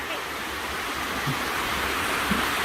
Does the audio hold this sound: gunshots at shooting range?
no